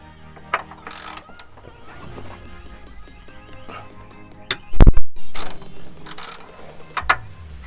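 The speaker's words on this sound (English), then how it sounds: "I'm using a nice long socket here." Long socket on a ratchet wrench working a body-to-chassis mount bolt on an 80 series Land Cruiser, with bursts of clicking ratchet strokes, metallic clanks and a sharp knock near the middle; no one speaks.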